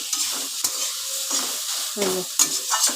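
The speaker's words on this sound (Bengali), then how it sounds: "এবার আমি ভালো করে সব মশলার সাথে নাড়াচাড়া করে নেবো" A spatula stirs spices in a sizzling frying pan while making radish ghonto, giving close, irregular scraping strokes over a constant frying hiss.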